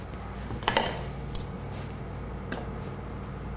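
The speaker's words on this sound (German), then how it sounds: "Jetzt wird hier angerichtet nämlich, ganz professionell, so wie der Markus das nämlich mag" Spaghetti is served onto plates with cutlery in a home kitchen, a few light clinks and scrapes of utensils against dishes, close and quiet, with no talking.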